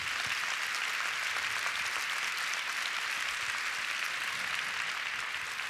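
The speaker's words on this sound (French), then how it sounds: "Et on peut même commencer par vous applaudir aussi." Steady audience applause fills a forum hall at a women's event, a dense, even wash of many hands clapping at moderate distance with no pauses.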